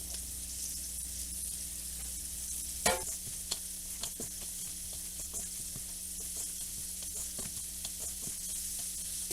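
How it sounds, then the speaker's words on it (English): Breaded chicken nuggets fry in a pan on the stove top, giving a steady, close sizzle with scattered crackles and pops and one sharper clatter near the start. "I just want to get that breading a little crispy"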